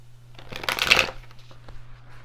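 A deck of cards is riffled once in a quick crisp burst, close by, followed by a few light card taps against a low steady hum.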